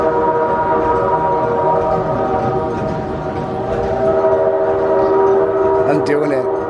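Recorded train sound effect inside an earthquake attraction ride in Gatlinburg, Tennessee: a sustained horn-like drone over rumbling noise, loud and continuous, with a short clatter near the end.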